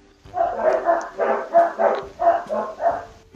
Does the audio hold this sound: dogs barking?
yes